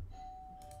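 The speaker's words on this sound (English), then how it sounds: "I don't know why my doorbell is ringing" A doorbell sounds once indoors, a faint sustained electronic tone with a second brighter chime shortly after, quiet and alone.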